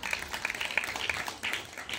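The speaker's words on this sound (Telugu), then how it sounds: "చప్పట్లు కూడా దేవుని నామమున మహిమపరచు" Church congregation clapping during a sermon, a light, fairly faint patter of scattered hand claps with quick rhythmic bursts, no voices over it.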